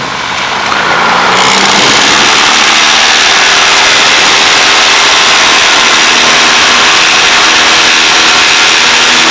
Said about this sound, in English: We'll see how quick we can get off the ground and how this aircraft does climbing.